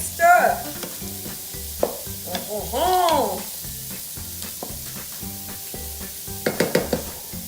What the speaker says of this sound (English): so we're gonna give it a quick stir.